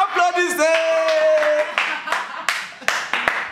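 A few sharp hand claps ring out among excited voices of a group of dancers, the claps growing clearer and more separate toward the end while people keep talking.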